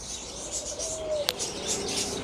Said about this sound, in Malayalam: ഇവിടെ കുറച്ച് ഇതുണ്ട്, പ്രാവ്, ലവ് ബേഡ്സ്.